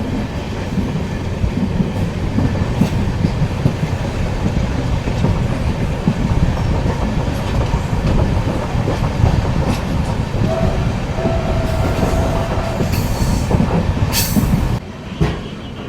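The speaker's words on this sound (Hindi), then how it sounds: "बैंकर लोकोमोटिव जो था वही अब लीड कर रहा है अपनी ट्रेन को।" Kolkata Sairang Express train with a banker locomotive now leading rolls along a ghat route, wheels clattering in a steady rhythmic clickety-clack with occasional squeals, loud and continuous from the onboard position.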